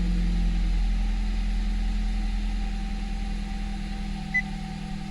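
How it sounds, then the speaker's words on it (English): A 2020 Nissan Rogue engine idles steadily up close, a constant low hum with no starting crank audible, running alone without voices. "turn on your car, start the car, and you will see the warning"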